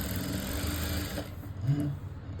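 Sewing machine stitching thread piping on the front part of a lined blouse, a steady close mechanical whir running throughout with a brief louder burst near the end.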